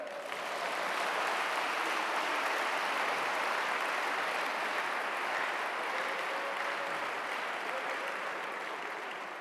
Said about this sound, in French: Applaudissez pour les sœurs.